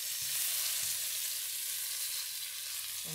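Ginger sizzles in a hot pan right after salmon has been fried, making a steady, close hiss of frying with a few faint low knocks underneath.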